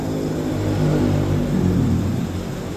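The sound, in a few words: Vespa scooter engine started and running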